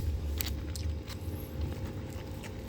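Someone chews a mouthful of squid with rice, eaten close up, producing soft wet bites and scraping crunches in a few uneven bursts under a low, steady background rumble.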